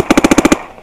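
Dye NT11 paintball marker fired in a rapid burst of seven evenly spaced, loud, sharp pops outdoors on a paintball field, followed by quiet.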